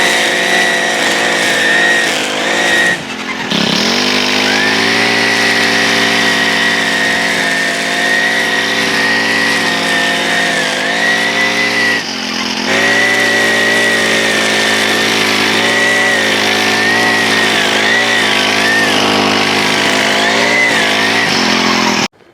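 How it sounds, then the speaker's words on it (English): A Senix 4-cycle gas grass trimmer cuts dandelions in a residential yard. Its engine gives a loud, steady, high-pitched whine close by, dipping briefly twice before returning to full, unbroken running. "Just some dandelions, and I'll show you how easy those are to trim down."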